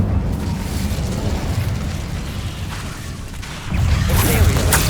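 The Incendio fire spell in Hogwarts Legacy bursts out as a sustained loud whooshing roar that swells near the end, with a faint voice in the background.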